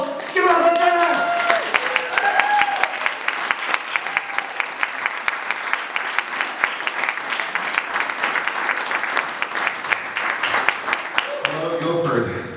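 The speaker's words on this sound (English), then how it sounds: "So would you please welcome to the stage with a warm round of applause" Comedy club crowd in Guildford applauds and cheers as a comedian takes the stage, steady dense clapping throughout with a few voices at the start and end.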